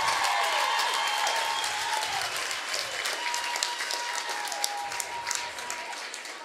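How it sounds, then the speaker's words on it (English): Crowd at Starfire Stadium applauding and cheering after a goal in a Seattle Reign women's soccer match against the Boston Breakers, sustained dense clapping with a few whistles. "giving the fans something to cheer about here"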